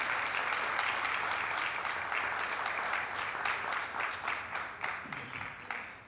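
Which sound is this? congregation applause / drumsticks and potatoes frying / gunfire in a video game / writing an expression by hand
congregation applause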